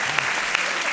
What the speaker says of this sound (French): Il s'applaudit lui-même.